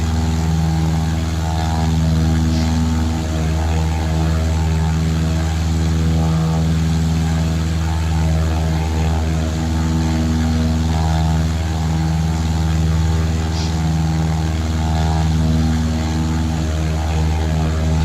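Steady, loud drone of a propeller airplane engine in flight on a cross-country route, a continuous even hum with no pauses throughout.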